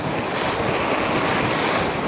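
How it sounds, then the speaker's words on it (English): Ocean waves wash steadily around a sailing boat at sea, with a constant broadband rush of surf and heavy wind buffeting the microphone throughout. "now we are entering into smooth water as we hit the last of our waves"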